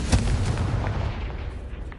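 Confringo explosion spell in a video game: a sharp, booming blast right at the start, then a rumbling decay that fades over about two seconds, with no speech.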